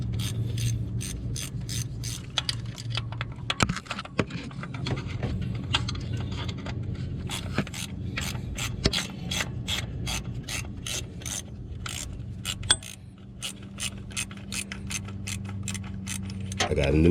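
A ratchet backs out the tensioner bolts on a Chrysler 3.5L engine, giving close, rapid bursts of fine clicking throughout with brief pauses between strokes, over a faint background hum.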